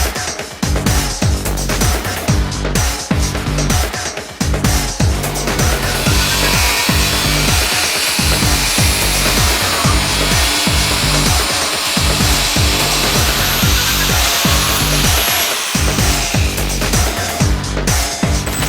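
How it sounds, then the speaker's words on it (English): A power saw cuts through the fender and front bumper of a 2003 BMW E46 to clear a Civic EK Ferio fender, giving a loud, close, continuous rasping whine with short stutters as the blade bites, lasting many seconds. "So now we're going to actually cut the fenders for clearance"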